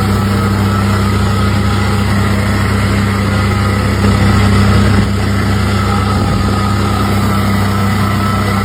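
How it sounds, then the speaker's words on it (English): A wooden bowl being power sanded gives off a loud, steady motor drone with a constant high whine, holding evenly throughout with no break. "He's sanding it down now"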